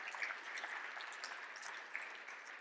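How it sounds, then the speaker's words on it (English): An audience at a BankSpaces conference talk applauds the suppliers, a dense, steady wash of many hands clapping, faint and distant throughout. "So give them a big round of applause, please."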